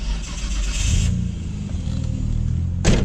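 A Nissan Skyline R33 GTR V Spec, over 25 years old, revs hard close by, the engine note rising and holding loud for about a second before settling into a steady idle, with a brief sharp burst of noise near the end.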